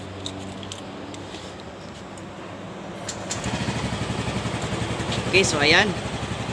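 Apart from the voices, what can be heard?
Yamaha Mio Gravis scooter engine starting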